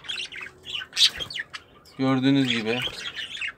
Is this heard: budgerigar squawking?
yes